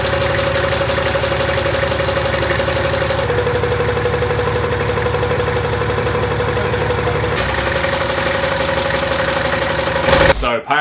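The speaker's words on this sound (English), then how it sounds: "it's kind of like a thumping sound coming from the motor" A car engine idles steadily and close by on its first start, with a low, repetitive thumping pulse from the motor running beneath its hum, continuing for about ten seconds.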